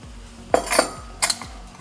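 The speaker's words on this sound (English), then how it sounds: "just mix it thoroughly" A utensil mixes Parmesan cheese into semi-soft, room-temperature butter in a bowl, producing two short clusters of scraping clinks against the dish over a low background hum, close by and without talking.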